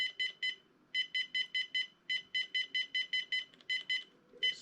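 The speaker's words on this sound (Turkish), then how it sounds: "Şu sadece alarm." Alarm beeping from a Helix 5 device: rapid bursts of short, high electronic beeps in groups of three to seven, repeating steadily and clearly with no talk.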